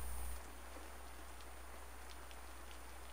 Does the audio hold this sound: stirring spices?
no